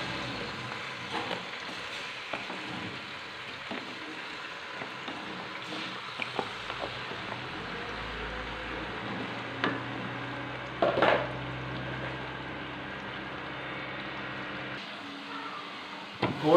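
Chicken pieces dropped into hot ghee for a desi-style chicken korma, a soft steady sizzle with occasional clinks and scrapes of a utensil against the pot, close but fairly quiet, no talking.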